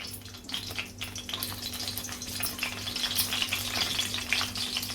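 Hot oil crackles and sizzles steadily as dried red chilies, a green chili and bay leaf fry, with a low constant hum underneath and scattered sharp pops, no talking.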